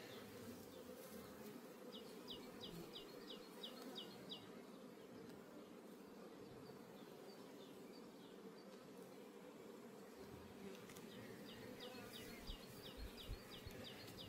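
A strong honey bee colony gives a dense, continuous buzzing hum from many bees, soft and steady with no talk.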